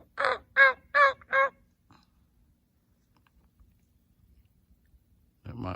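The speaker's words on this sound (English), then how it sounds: "Pretty good little bunch of birds right there." Four loud crow caws in a quick row near the start, then near silence, followed by a low voice speaking at the end.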